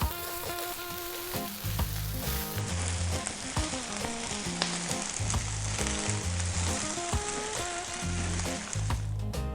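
Vegetable fried rice with spring onion tops sizzles steadily in a pan while being stirred, with loud continuous frying and repeated scraping and clinking of the utensil over nearly ten seconds.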